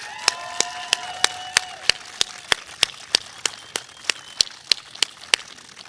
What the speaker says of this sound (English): Can we please give a round of applause for the Boulder Prep staff?